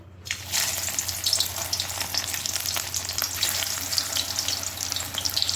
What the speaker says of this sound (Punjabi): ਹੁਣ ਅਸੀਂ ਗੈਸ ਦੇ ਉੱਪਰ ਕੜਾਈ ਰੱਖੀ ਹੋਈ ਆ ਤੇ ਕਰੇਲਿਆਂ ਆਪਣੇ ਨੂੰ ਚੰਗੀ ਤਰ੍ਹਾਂ ਵਾਸ਼ ਕਰਕੇ ਸੁਕਾ ਕੇ ਤੇ ਹੁਣ ਅਸੀਂ ਇਹਦੇ 'ਚ ਫਰਾਈ ਕਰਾਂਗੇ